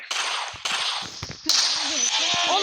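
Video game gunfire cracks out in a few abrupt bursts over a busy, continuous game soundscape. Voices and tonal game effects run beneath and between the shots.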